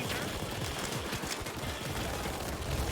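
Dense, continuous gunfire from a Payday 2 heist, with rapid overlapping shots and bursts that roll on without a break for the whole stretch at steady loudness.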